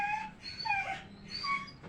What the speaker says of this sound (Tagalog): May aso ka pa dito, palaging mag-disturbo